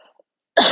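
A single sharp, loud cough bursts out near the end after a near-silent pause, close and dry, during a gentle stretching class.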